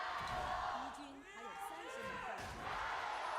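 Large esports arena crowd at an LPL League of Legends match roars and cheers loudly and continuously, with a brief dip before swelling again; a commentator's voice runs underneath.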